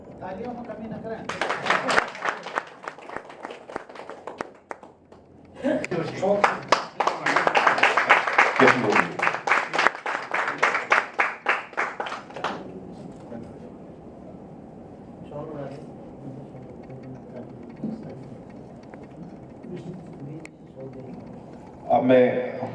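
Enthusiastic audience applause at an honour ceremony for an MLA held by the Akhil Bharatiya Uttarakhand Mahasabha, with dense clapping in two bursts, a shorter one then a longer, louder one, followed by quieter hall ambience and faint voices.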